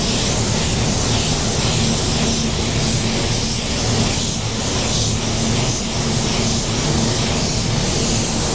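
A spray gun lays a sealer coat over a car paint job, a loud, steady broadband hiss running unbroken and close-up the whole time, with no talk over it.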